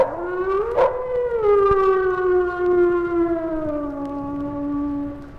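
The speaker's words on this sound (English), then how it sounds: "the howl. That eerie wail that is by far the most significant call of all animals." A single long wolf howl, rising briefly then holding a steady eerie tone that slowly sinks and fades over several seconds, heard alone and fairly close.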